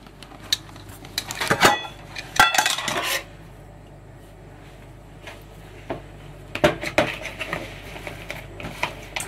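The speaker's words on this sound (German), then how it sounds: "sie vorher vielleicht noch mal ein bisschen zu stampfen mit einem Löffel" A spoon clinks and scrapes in a dish while figs are mashed by hand in a kitchen, with bursts of sharp clattering taps near the start and again toward the end, separated by a quieter stretch.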